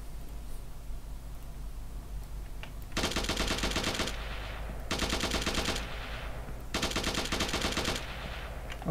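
Automatic rifle fire in an Unreal Engine 5 shooter game, three sustained bursts of rapid, loud shots separated by brief pauses, with no talking.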